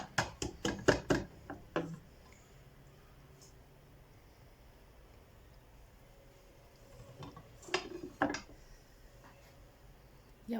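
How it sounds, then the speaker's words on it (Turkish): Light, quick taps on a metal cooking pot of maqluba, a cluster early on and another later, over a faint background hum. "Şöyle hafif tencereme vurayım."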